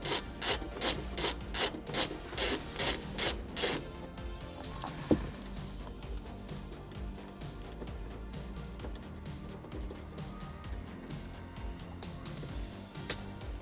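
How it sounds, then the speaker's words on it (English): A ratchet fitted with a Torx bit on a 1/4-inch drive turning out Cybertruck cladding trim bolts, giving a loud close run of about nine rapid clicking bursts before fading into quieter mechanical handling noise. "the included Torx bit is put into your 1/4-inch drive and attached to a ratchet"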